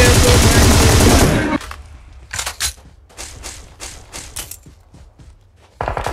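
Gunfire crackles in the mobile battle-royale video game PUBG Mobile at the Livik power plant: a loud burst opens, then a string of sharp shots in quick, uneven clusters rings out.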